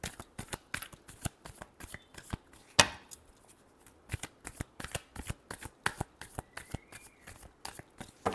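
Tarot cards being shuffled by hand, a brisk series of crisp riffling slaps and flicks in an uneven rhythm, close and clear with no talking.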